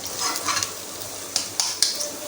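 Ginger garlic paste fries in a pan for a beef pulao, giving a steady soft sizzle with a few sharper stirring scrapes near the end, close and fairly quiet, with no talking.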